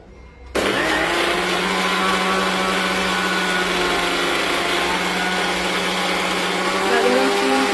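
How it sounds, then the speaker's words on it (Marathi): A mixer grinder starts abruptly and runs at high speed blending oil, water, turmeric and salt, a loud, steady whirring drone that holds unbroken and rises slightly near the end, with a voice briefly audible beneath it. "आता हे मिक्सरला फिरवून"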